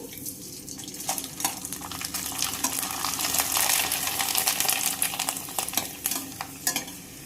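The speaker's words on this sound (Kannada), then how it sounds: "ಈಗ ಫ್ರೈ ಮಾಡಿ ತೋರಿಸ್ತೇನೆ ನಾನು ನಿಮಗೊಂದು ಸ್ವಲ್ಪ. ಎಣ್ಣೆ ಬಿ ಕಾದೈತಿ. ಈ ಶಾಂಡ್ಗಿ ಹಾಕೋನು." Rice sandige fry in hot oil with a steady, close sizzling crackle and bubbling, broken by scattered sharper pops and faint stirring clinks, no voices.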